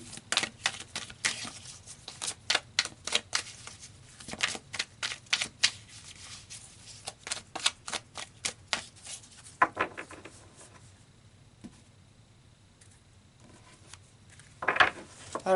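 Tarot cards are shuffled and pulled close by, a long run of quick, dense riffling snaps and flicks, then a quieter stretch of soft sliding and a few final sharp card slaps.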